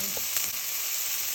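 Whole spices roasting in a pan with onions and chili for an Indian chicken curry, giving a steady close hiss of sizzling oil with a few brief stirring scrapes.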